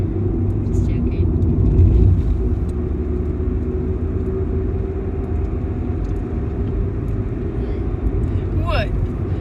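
Steady low rumble and road roar inside a moving car, continuous and fairly loud throughout, with faint voices talking over it.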